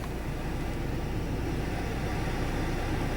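A car engine runs at idle inside the vehicle, a steady, even broadband drone holding constant throughout with no voices.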